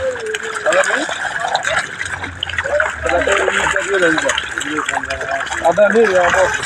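Live, healthy fry at a fish farm in Jessore thrash and splash in shallow water, a busy stream of wet slaps and splatters with someone talking loudly over it.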